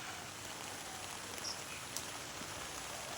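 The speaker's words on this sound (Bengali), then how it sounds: "বৃষ্টি হচ্ছে" Rain falls steadily on a village vegetable garden as a soft, even hiss of drops that stays constant throughout, with a faint bird chirp near the middle and no voices.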